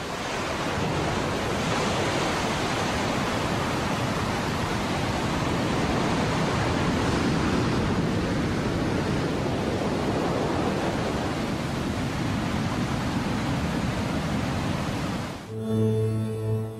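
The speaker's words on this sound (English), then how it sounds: "For several kilometers, this raging tide tears whole blocks of sediment out of the mountains." The Nile in flood roars as a raging torrent tearing sediment from the mountains, a broad continuous rush of churning water like heavy surf, loud and unbroken until it cuts off abruptly at the end.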